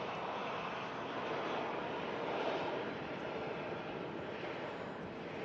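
A classic Boeing 757 airliner at Manchester Airport gives off a steady, broad jet roar that holds at an even level throughout, with no voices over it.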